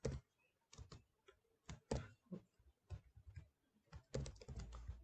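Computer keyboard typing while writing JavaScript code, irregular bursts of crisp close key clicks with short pauses between them, including a quick flurry near the end, in a quiet room.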